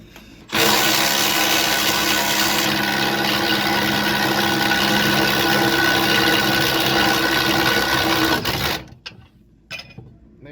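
A Milwaukee impact wrench hammers continuously at a differential bushing nut on a BMW E46 rear axle, a loud, steady rattling whir lasting about eight seconds before cutting off abruptly, followed by faint workshop noise.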